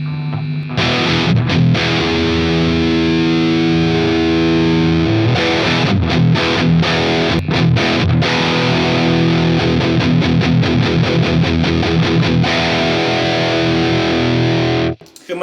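Electric guitar played through a Brunetti Pleximan distortion pedal with its Extra switch engaged, loud crunchy chords and riffs ringing out steadily before cutting off at the end.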